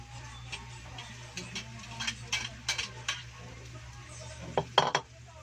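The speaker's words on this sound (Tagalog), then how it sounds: "Lagay na po natin yung balon-balunan dahil po medyo naluto na po yung ginisa po natin." Chicken gizzards going into a pan of sautéed aromatics for a Bicol-style igado, with a steady sizzle of frying under scattered scraping and clinking of a utensil against the pan, several sharper clatters near the end.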